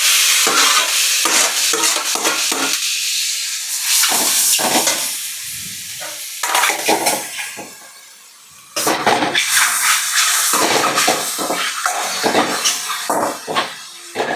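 Mushrooms fried earlier go into a pan of 70% cooked rice for mushroom fried rice, with loud steady sizzling and hiss under repeated scraping stirs of a spatula, close up; one brief dip in the sizzle midway.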